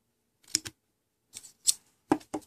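Several sharp, close snips cut off excess coil wire on a REO Grand vape build, in two or three quick clusters separated by silence.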